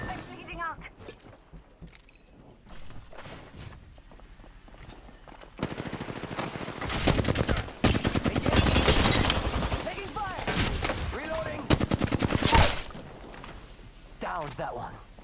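Rapid automatic gunfire and scattered shots from the battle royale game Apex Legends, quiet and sparse at first, then loud sustained bursts with footsteps and game voice lines mixed in.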